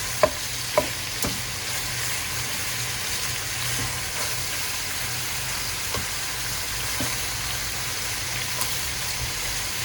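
Duck meat frying in hot oil until golden brown for a stew, a steady sizzling hiss broken by a few sharp spatula clicks and stirring knocks, with no voices.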